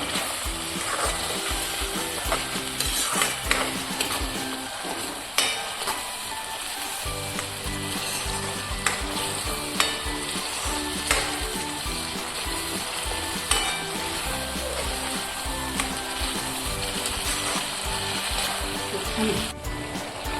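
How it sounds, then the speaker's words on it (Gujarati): Tomato puree from three tomatoes sautés in a hot pan for dum aloo, a steady, close sizzle and bubbling fry with occasional stirring scrapes throughout. "3 ટમેટાની પ્યુરી લીધી છે, એને પણ સાતળશું. થોડી વાર સાતળવા દઈશું."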